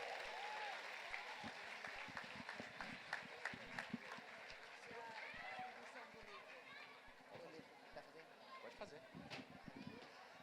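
Audience applause fills a church worship event in Salvador, a steady, dense clapping from a large crowd that carries through the whole stretch, with voices and chatter mixed underneath.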